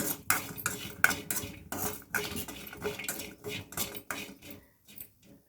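A metal spatula clatters and scrapes against a pan as coconut is stirred in a little oil over a low flame, for a Telugu stuffed brinjal curry. The bursts of scraping come quick and close, with no speech.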